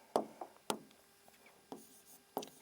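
Writing on a board during a maths lesson: a handful of short, faint taps and scratches of chalk or marker come in irregular strokes, close by and alone.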